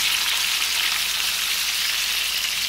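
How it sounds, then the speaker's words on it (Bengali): Koi fish frying in a pan of hot oil, giving a loud, steady, dense sizzle that continues unbroken throughout. "আমি এই মাছগুলোকে ফ্রাই হতে দেব।"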